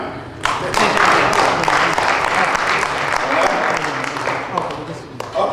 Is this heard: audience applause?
yes